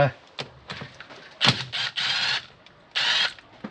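Ratchet work cracking loose 10 mm bolts on a Nissan VG30E engine, heard as close, separate bursts of clicking and metallic mechanism noise in short irregular spurts.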